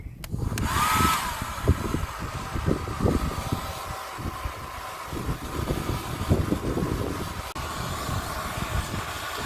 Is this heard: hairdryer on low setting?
yes